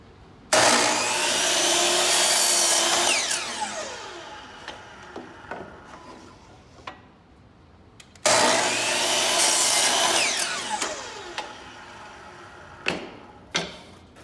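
A miter saw cuts a wooden board set against the work stop twice, each cut a loud whining buzz that spins down, with light clunks of wood being handled between them.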